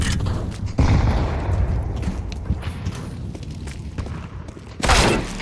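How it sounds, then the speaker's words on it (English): Grenade going off in a first-person shooter game, a loud low boom bursting out and rumbling, then a second heavy blast near the end, with scattered gunfire and footsteps in the background. "Throwing fire. Grenade out."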